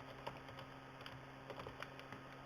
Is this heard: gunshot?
no